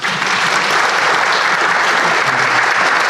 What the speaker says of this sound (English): So I want to give them a round of applause real quick